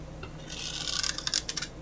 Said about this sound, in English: So let me give this a shuffle.